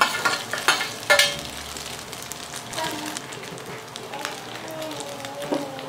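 Potato samosa filling is stirred into onions frying in oil, giving a sizzle with clattering spoon scrapes and knocks against the pan. A voice is briefly heard over the cooking sounds.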